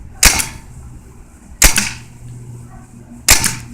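An Army Alpha Black paintball marker fires three sharp single shots in semi-automatic mode, evenly spaced about one and a half seconds apart, each a loud crisp pop with a short tail.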